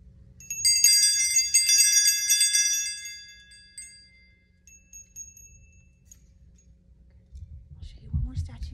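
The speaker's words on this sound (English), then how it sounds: "each bell has a different size. That means it has a slightly different sound. So when you ring it together, it sounds beautiful." Several consecreation bells of different sizes in a church ring together in a bright, overlapping jangle for about three seconds, then fade to a quiet hum with a low thump near the end.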